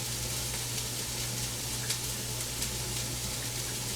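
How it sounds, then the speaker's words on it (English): Garlic sizzling in a hot pan while cooking sausage jambalaya, a steady, even hiss holding at moderate level throughout, with a low hum underneath and no talking. "I'm going to go ahead on and put my garlic in there"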